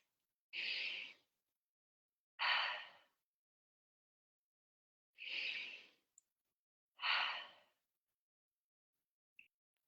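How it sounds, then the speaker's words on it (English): Four slow, even exhales through the mouth during a controlled breathwork exercise, each lasting about half a second to a second with long quiet gaps between, close and soft with no talk. "keep breathing that conscious and controlled breath in through the nose and just passively letting it go through the mouth"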